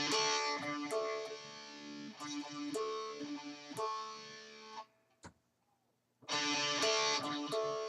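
Distorted electric guitar playing a riff, a steady chugging run of crunchy chords with quick string scrapes, a brief near-silent gap with one muted pick, then the riff rings in again, close with no voices.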